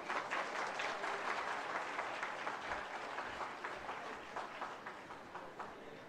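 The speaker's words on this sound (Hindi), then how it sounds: "तालियां लगातार होती रहे" Sustained applause from a crowd of students at a government ceremony in India for nursing and ITI appointment letters, a steady dense roar of clapping that slowly fades a little over several seconds.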